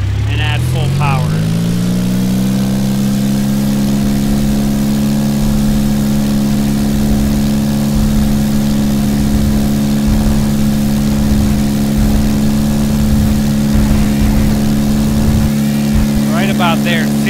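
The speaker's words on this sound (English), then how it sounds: "So I'm going to release the brakes, pull the yoke back, and add full power." In a flight simulator game, an airplane engine ramps up to full power around two seconds in, then holds a loud, steady, droning roar through the takeoff roll.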